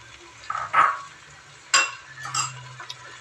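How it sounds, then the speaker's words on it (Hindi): Ginger garlic paste frying in a home kitchen pan as tomatoes go in, with a few clattering scrapes and clinks of utensils against the pan over a faint, steady background. "अदरक और लहसुन का पेस्ट जी भी मैंने फ्राई कर लिया। तो मैं साथ में ऐड कर दूँगी टमाटर।"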